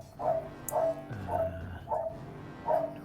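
A dog barks indoors in a room, five evenly spaced mid-pitched barks close to the microphone, each short and sharp, with a faint low hum underneath.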